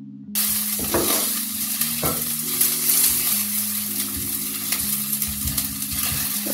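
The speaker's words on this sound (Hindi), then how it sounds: "थोड़ा सा गोल्डन ब्राउन होने तक पकाएंगे।" Onion fries in a pan with a constant sizzle while a spoon stirs and scrapes it in repeated strokes, close and steady, as the onion browns during cooking of a chaat dish.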